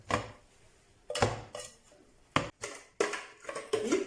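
Ingredients for malangwa, including tomato, dropped and clattering into a cooking pot, a series of sharp knocks and scrapes spaced irregularly with quiet gaps between them, close and fairly loud.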